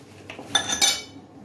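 A metal spatula clinks and scrapes against a pan of melting chocolate for a chocolate tart, a short cluster of bright metallic taps over about half a second, close and moderately loud.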